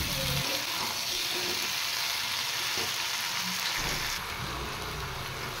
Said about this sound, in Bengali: এই পেস্টটা দিয়ে আমি এখন সবজিগুলো আরেকটু ফ্রাই করব